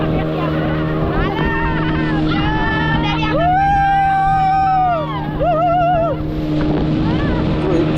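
Motorboat ride off Shivrajpur beach in Dwarka at sunset, the engine droning steadily and close while wind buffets the microphone and people talk and shout over it throughout.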